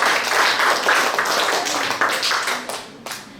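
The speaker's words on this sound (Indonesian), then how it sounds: "Tepuk tangan untuk Oka." Classroom applause for a student, a small group clapping in a brisk, uneven patter that thins out toward the end, leaving a few scattered claps.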